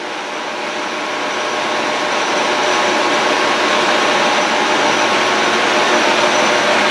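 A Monarch long bed lathe runs while threading, producing a loud, steady whirring machine drone that swells slightly at the start and then holds constant, with no talking.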